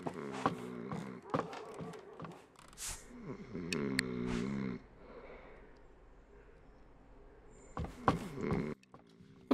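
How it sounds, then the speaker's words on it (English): A sleeping character snores in a home in the video game Dordogne, giving a few soft, drawn-out breaths in a quiet room with brief clicks and noises around them. "You can hear Nora snoring."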